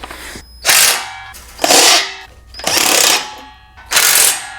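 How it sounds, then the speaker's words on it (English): A ratchet with a 10mm socket tightening the nuts on the tail lights and side markers of a Malone MicroSport overland tent trailer, four loud bursts of rapid clicking, close up, separated by short pauses. "And there's one other socket, the 10mm socket. That's going to tighten the tail lights and side markers."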